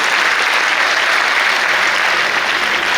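Steady audience applause fills the hall at a Women's Day celebration speech, dense and sustained throughout with no pauses and no voices rising above it.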